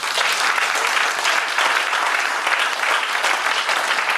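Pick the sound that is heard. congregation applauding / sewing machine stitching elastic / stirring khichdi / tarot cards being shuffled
congregation applauding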